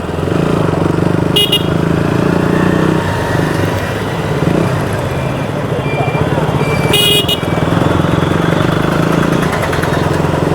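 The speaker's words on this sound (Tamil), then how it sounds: "இங்கே தான் கூடுதல் டிராஃபிக் ஆகிறது" Busy street traffic in Kattankudy, with motorcycle engines droning and idling loudly and close, broken by two short bursts of car horn honking, while people talk underneath.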